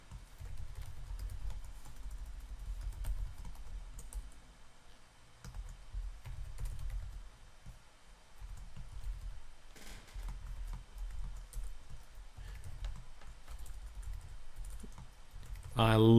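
Irregular clicking of keys on a computer keyboard, close and moderately quiet, with uneven bursts of typing and short pauses over a low background hum.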